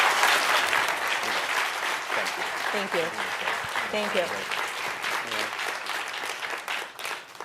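A conference audience at the citizenship and immigration services ombudsman's annual event breaks into sustained applause, a thick wash of many hands filling the room while someone speaks briefly over it.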